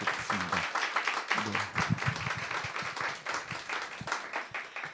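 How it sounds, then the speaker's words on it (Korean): A church congregation applauding in encouragement during a Christmas thanksgiving service, rhythmic clapping from many hands with a voice speaking softly underneath. "우리 격려의 박수 한번 주시면"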